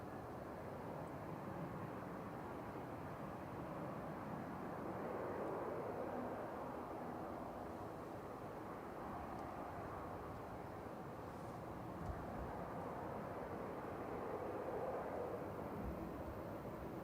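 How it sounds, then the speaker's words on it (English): An Airbus A320-200 jet arriving from Amsterdam at Manchester Airport gives a faint, distant engine roar that holds steady and swells slightly midway, with no talk over it. "It's a jet from Amsterdam there, GEZRT, it's our plane."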